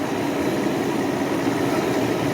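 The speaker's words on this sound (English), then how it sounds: "the engine is running, warming up" A Mercedes M120 V12 from a 1996 to 2001 model idles while warming up, giving a steady, close, dense engine drone with constant loudness and no voices.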